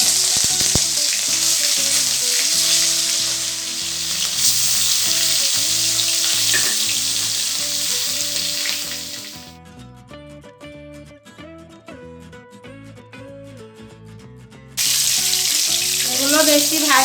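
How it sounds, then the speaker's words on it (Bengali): Hilsa fish pieces coated with salt and turmeric frying in mustard oil in a wok, a loud steady sizzle that drops away midway under background music, then returns at full strength. "মাছগুলো ভেজে নিচ্ছি"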